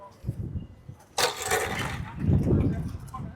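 A New Holland Workmaster 106 HP tractor engine cranks and catches with a sudden loud start, then settles into a steady low running rumble that swells slightly near the end, close by with no talk.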